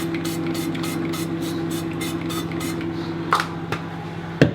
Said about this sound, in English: Just spray the pan with it, just so it doesn't stick.